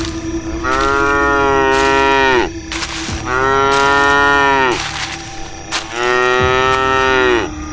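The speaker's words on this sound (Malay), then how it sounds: "Nyonya, aku udah dapatkan sapi buatmu." Cattle low three times in long drawn-out moos, each rising then falling away at the end, separated by short pauses. The calls are loud and close, with no voices.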